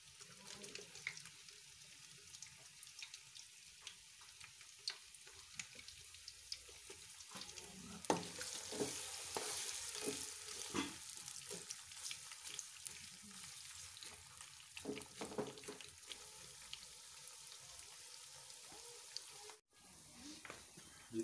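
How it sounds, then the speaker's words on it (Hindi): Chopped onions frying in hot oil for a beef curry sizzle and crackle with a steady hiss. Scattered pops and stirring clatter sit on top, all fairly faint and without speech. "ऑयल हमारा गर्म हो गया है, अब हम इसमें प्याज डाल लेंगे"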